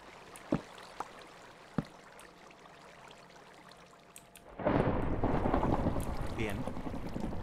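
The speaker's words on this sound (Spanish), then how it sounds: "Una buena tormenta." A Minecraft thunderstorm starts abruptly partway through as a dense wash of rain and rumbling noise that holds steady to the end. A few sharp clicks come before it over a quiet background.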